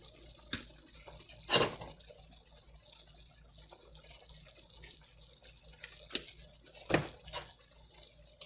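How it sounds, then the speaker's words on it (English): Soy sauce poured onto a plate of white rice gives a few brief, soft liquid splashes and trickles, spread apart against a quiet kitchen background. "Now I'll add my soy sauce to it."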